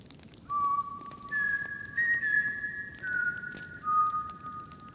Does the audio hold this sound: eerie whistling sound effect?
yes